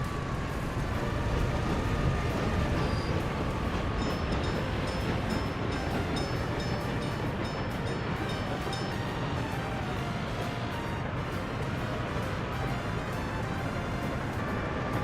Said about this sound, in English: Much faster train.